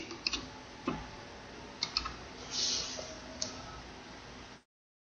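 Computer mouse clicks, several sharp faint ticks scattered over a quiet room background with soft handling noise, no voices.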